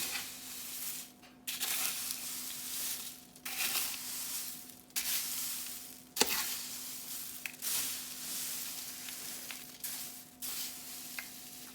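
Raisins stirred into a pot on a Heco wood cookstove, with repeated wet scraping and sizzling stirs in bursts separated by short pauses, close and clear with a steady background hum and no talking.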